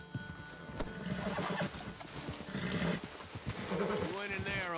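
A horse in Red Dead Redemption 2 snorts and lets out a wavering neigh near the end, preceded by hoof and movement sounds under talking voices.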